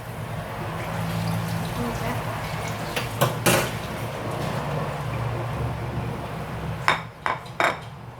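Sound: washing a pan and dishes

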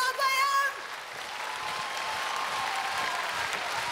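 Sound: audience applause

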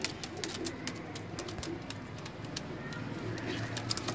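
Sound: golden pigeon cooing

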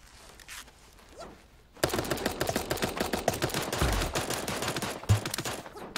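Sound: gunfire in a video game

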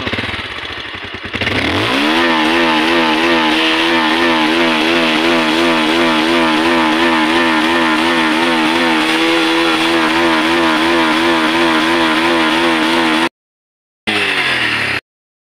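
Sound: Bajaj Avenger 160 motorcycle engine sound

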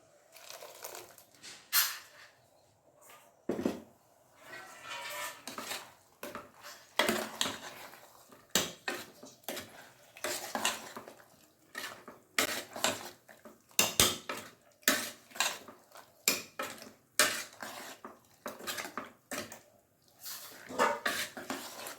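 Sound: stirring ground masala into curry in a pot

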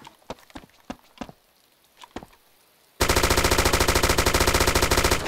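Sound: rapid machine gun fire in video game ArmA 2

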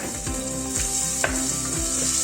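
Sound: onions frying in oil for bulgur pilaf

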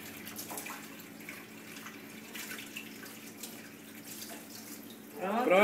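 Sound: water running from tap while washing a spoon

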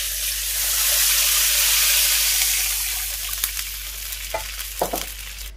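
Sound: water poured into hot frying pan, sizzling

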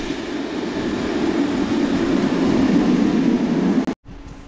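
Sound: train arriving at Gent Sint-Pieters station

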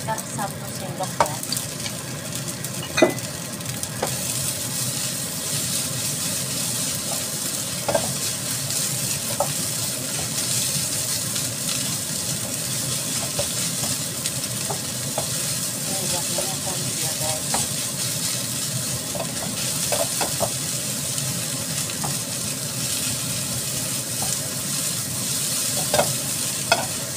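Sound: stir-frying fried rice over high heat

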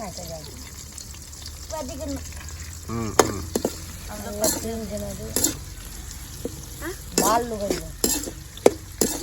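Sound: curry leaves added to a pan, frying and stirring

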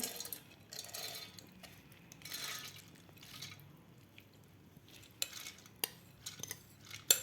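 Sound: soaked lentils put into mixer jar

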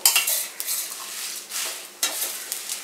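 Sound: frying and stirring Nagpuri kala masala spices in a pan

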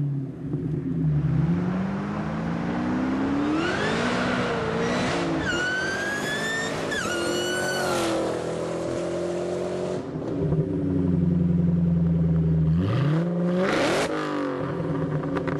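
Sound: 2004 Mustang Cobra Terminator V8 with Kenne Bell supercharger

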